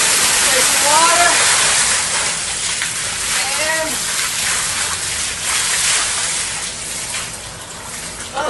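Cold water sloshing and splashing steadily as an object is pushed down into a filled container to displace it, close and continuous, with someone talking briefly over the start.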